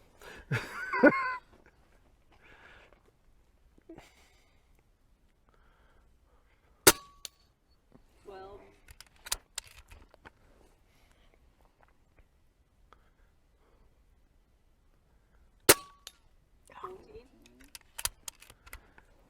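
Two sharp, isolated shots from an Umarex Notos regulated PCP micro carbine air rifle, several seconds apart, close and crisp, with quiet stretches and brief talk and small handling noises between them outdoors.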